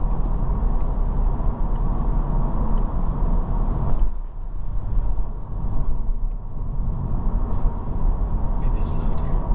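A 2023 Acura Integra A Spec with a CVT that emulates gearshifts drives along, its steady engine and road noise loud and continuous, with a brief dip in drone as a simulated shift passes partway through.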